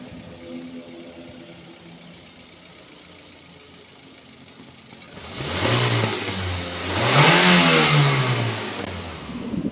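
2012 Daihatsu Granmax 1.5 pickup engine idling quietly, then revved twice, a loud rising-and-falling roar each time, heard close by with no talk.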